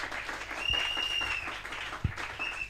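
A church congregation applauding during a sermon, a broad wash of clapping held at steady moderate loudness for a few seconds, with one sharper knock standing out near the end.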